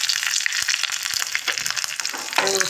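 Hot mustard seed tempering poured into a coconut curry bursts into a loud, steady sizzle and crackle up close, easing slightly before a clink near the end.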